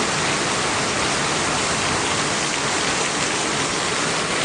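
Heavy monsoon rain pours down steadily near a house, a dense, even roar that fills the scene with no pauses and no voices.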